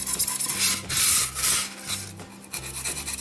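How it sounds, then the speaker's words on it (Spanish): A craft cutter carving rock-like shapes into soft modelling material for a nativity-scene bakery oven, giving close scraping and rasping strokes in uneven bursts with no talking. "Entonces ya con el cúter vamos tallando esas formas"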